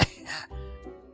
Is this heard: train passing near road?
no